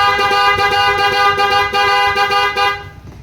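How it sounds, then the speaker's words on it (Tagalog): Dual horn on a Honda Wave S125 motorcycle, a loud close continuous two-tone honk with a slight pulsing flutter, sounding for about three seconds before cutting off abruptly. "Dual horn tayo mga sir, no?"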